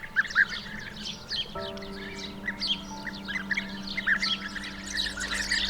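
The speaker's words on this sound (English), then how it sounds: "The bee-eater is a migratory bird that forms large colonies." Repeated short chirping calls from bee-eaters, birds with yellow necks and turquoise bodies, breeding in a colony by a riverbed; many overlapping trills and chirps, near to mid-distance, over a steady low hum.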